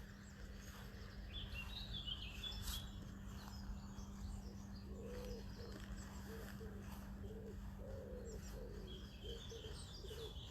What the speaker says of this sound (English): the real sound of the summer is waking up with the wood pigeons